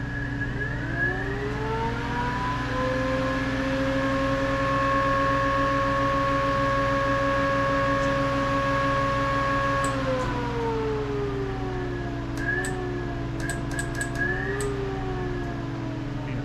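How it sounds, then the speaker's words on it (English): A Chevrolet S10 pickup with a swapped V8 idling and revving, a steady engine tone rising in pitch and holding before dropping back, close and continuous, with a few brief clicks near the end. "you gotta rev it up just to make sure it's working"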